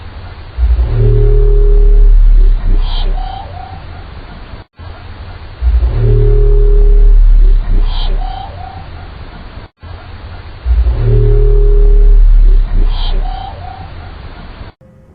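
A deep-ocean hydrophone recording from the Challenger Deep, with whale calls, passing boats and nearby earthquake tremors. Deep booming rumbles, tonal moans and higher chirps repeat as the same passage plays three times in a row.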